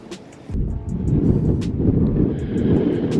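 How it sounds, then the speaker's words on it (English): Strong wind blasting through a Highland valley in Glencoe roars loudly against the microphone after a brief quieter moment, producing steady, gusty buffeting that continues to the end. "Don't know how much you're going to hear because the wind in this valley is mental."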